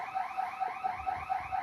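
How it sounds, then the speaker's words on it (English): A fire alarm sounds during a test of the alarm system, a steady repeating electronic whooping tone pulsing about every quarter second, fairly distant and alone. "We hear it. It's a fire alarm."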